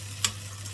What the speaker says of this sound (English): So my zucchini has been frying in the oil